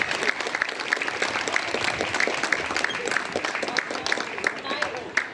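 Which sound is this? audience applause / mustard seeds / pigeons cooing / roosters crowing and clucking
audience applause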